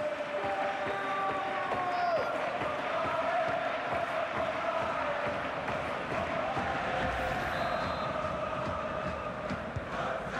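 A football stadium crowd at the Portuguese Cup final between CD Tondela and FC Porto roars in a dense, sustained wall of cheering after a goal, with horn-like tones ringing through the noise.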